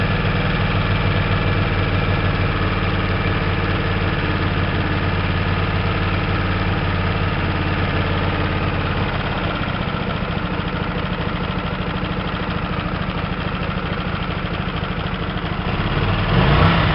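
A Hyosung 125 GTR motorcycle engine idles steadily and loud, its low throb shifting and dropping slightly partway through as the idle speed is turned down, then running on evenly.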